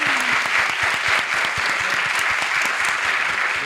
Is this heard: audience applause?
yes